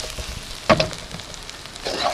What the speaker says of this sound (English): Sugar. I'm going to let that caramelize.